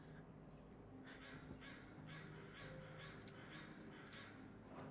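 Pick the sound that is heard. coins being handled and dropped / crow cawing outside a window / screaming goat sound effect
crow cawing outside a window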